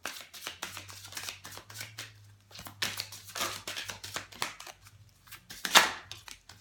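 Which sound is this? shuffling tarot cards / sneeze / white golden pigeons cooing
shuffling tarot cards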